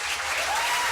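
Steady, full applause from an audience at a 2017 spring stage show, a continuous wash of many hands clapping at once without any talking.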